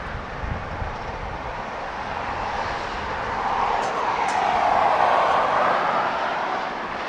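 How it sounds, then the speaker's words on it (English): A United jet moves quickly along an airport taxiway, its broad engine roar swelling gradually and steadily, heard from some distance with no speech. "this United jet was scooting down the taxiway at takeoff velocity"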